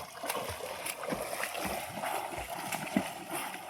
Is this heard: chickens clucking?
no